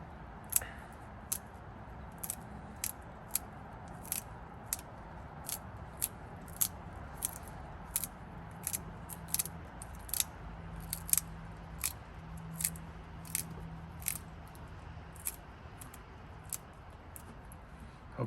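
Dry stinging nettle stems are snapped and broken by hand, giving a long series of crisp little cracks at a fairly steady rhythm, close up and quiet over faint background hiss.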